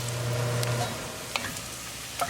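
Onions sizzle and fry steadily in a pan for restaurant-style dal makhani, with a close, constant crackle and a couple of faint stirring scrapes.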